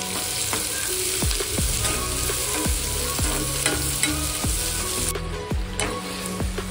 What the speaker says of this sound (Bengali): তেল হয়ে গেছে গরম। তো এবার আমি দিয়ে দেবো রসুন আদা।